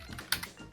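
Sticky keys on a Corsair K95 mechanical keyboard are pressed in a few quick, faint clicks, one sharper clack standing out, with no speech.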